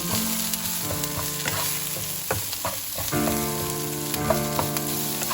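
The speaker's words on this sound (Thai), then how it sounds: "ให้น้ำพริกแกงแดงได้คั่วหอม ๆ สักหน่อย" Thai red curry paste stir-fried in a pan, with a steady close sizzle under repeated scraping and stirring strokes throughout.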